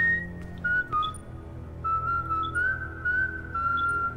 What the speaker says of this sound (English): She's whistling.